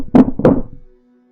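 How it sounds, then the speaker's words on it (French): Two loud, heavy knocks on a door, close and dry with a short dull ring after each, then silence. The knocking is urgent and there is no speech. "Les coups devenaient plus forts."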